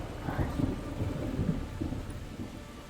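A rainstorm with low rolling thunder at a campsite, a steady dense rumble and patter throughout, with faint voices mixed in.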